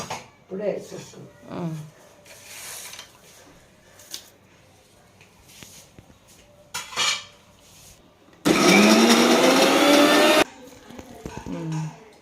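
A mixer grinder whirs for about two seconds while grinding ripe red chilli chutney, a loud steady motor burst amid quieter kitchen clatter and people talking.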